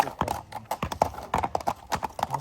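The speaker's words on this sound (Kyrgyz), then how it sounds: "Бул өтө тектүү ат. Таран деген ат туугандар." A prized horse walks with hooves clip-clopping in a steady, quick rhythm of sharp knocks, close and clear, with no voices in this stretch.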